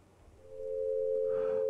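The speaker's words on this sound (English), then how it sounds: "Again, it is a 6 to 5 ratio, and it sounds like this." Two pure sine tones forming a minor third in a 6 to 5 ratio, the second entering partway to sound together, steady and clean with no talking.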